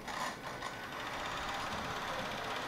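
A Juki TL2200QVP sewing machine, driven by a QBOT, runs in a steady, quiet mechanical whir while quilting. The sound is faint, with no talking.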